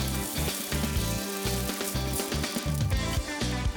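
Nagaimo (Chinese yam) rolls wrapped in meat and cheese sizzle steadily as they fry in a pan, a close, crackling frying sound that runs on unbroken, with a faint rhythmic pulse under it.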